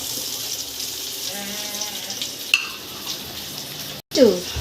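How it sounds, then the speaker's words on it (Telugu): Green chillies fry lightly in a home-kitchen pan, giving a steady close sizzle with a few sharp clinks and scraping stirs, and a brief dropout near the end before a louder burst. "ఇప్పుడు మనకి మిర్చి కొద్ది లైట్గా ఫ్రై అయ్యింది"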